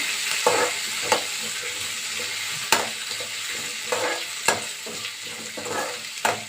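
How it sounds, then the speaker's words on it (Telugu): Onions, curry leaves and green chillies fry in a pan with a bright, constant hiss, punctuated every second or so by sharp scraping knocks from stirring, close and unaccompanied by speech. "ఆనియన్స్ అండి, ఆనియన్స్, కరివేపాకు, పచ్చిమిర్చి అండి వేసి ఇలా వేయించుకోవాలి."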